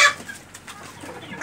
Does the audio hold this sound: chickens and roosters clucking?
yes